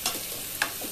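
Onion frying in a hot pan while being stirred, a soft close sizzle with a few brief scraping strokes, no talk.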